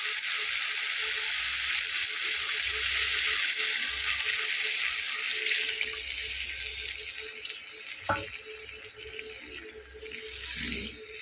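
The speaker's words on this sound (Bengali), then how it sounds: "তো এখন আমি আবার নতুন করে এটাকে পানি দিব।" Water poured into bhindi masala cooking in a pan: a loud, steady gushing hiss close by that tapers gradually, with a brief clink midway and low sizzling underneath.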